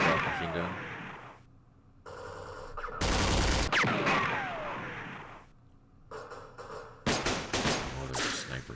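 Machine gun fire in the Vietnam war game Campaign Series Vietnam, heard as harsh sustained bursts that start and stop abruptly, with several loud volleys and quieter gaps between them.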